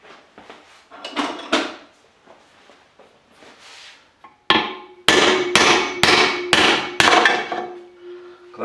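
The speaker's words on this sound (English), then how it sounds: "Need a bigger hammer." A hammer knocking old bearings out of a crankcase, a few softer taps followed by a run of five loud ringing metallic blows with a lingering metal ring.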